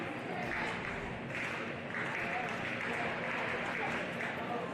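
Spectators clapping steadily at an indoor track high jump, a dense, continuous patter of applause from a surrounding crowd, moderately distant and even in level throughout.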